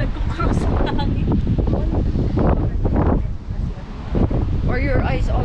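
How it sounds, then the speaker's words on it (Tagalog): Strong wind buffets across an open landscape on Batan in Batanes, roaring and gusting loudly against the microphone while people talk over it. "Nagkukross ang hangin."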